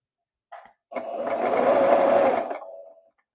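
A sewing machine stitches a straight seam in a brief start-stop burst, then runs for about two seconds in a steady, loud mechanical whir before stopping, close up with no talk.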